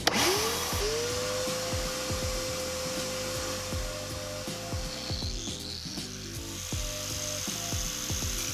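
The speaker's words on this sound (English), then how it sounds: "Let's turn the shop vac on to extract the dust into this cavity here." A shop vac runs at steady volume beside an angle grinder fitted with a diamond blade and dust extractor shroud, with a whining motor tone and repeated rhythmic scraping and cutting strokes throughout, with no talking.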